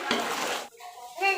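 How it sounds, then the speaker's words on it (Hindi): A spoon stirs masala bhindi chicken in a cooking pan, giving a loud, close scrape and rustle that ends in a few light metallic clinks against the pan. "इसको अच्छी तरह मिक्स कर लेते हैं"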